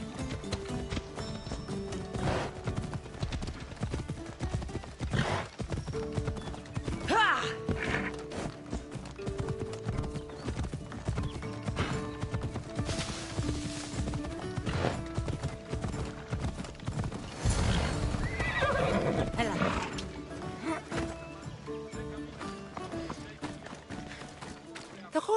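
Horse in Assassin's Creed Odyssey galloping with steady clip-clop hoofbeats and snorting whinnies, loud and close, mixed with game music and effects, and a voice speaks over parts of it.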